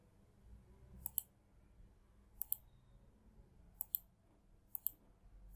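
A computer mouse clicks in four quick double clicks spread evenly over a few seconds, crisp and close against a quiet room hum.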